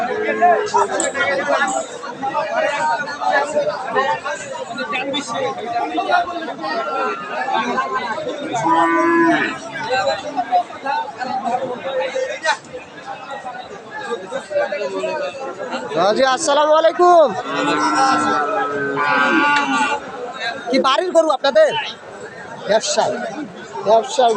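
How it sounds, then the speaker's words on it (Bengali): Cattle at a Friesian and crossbred bull-calf market low repeatedly near and far over constant crowd chatter and bargaining voices. "বেশ সুন্দর গরুটা আমরা দেখছিলাম"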